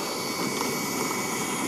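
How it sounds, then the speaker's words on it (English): A radio-controlled model jet flies on a windy day, giving a steady, continuous turbine whine that fills the whole stretch at an even, fairly loud level with no talk over it. "flying his jet"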